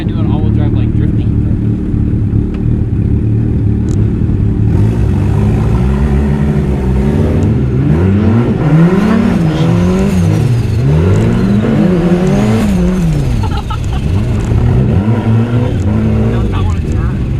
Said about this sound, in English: I want to try and do an all-wheel drive like drifting.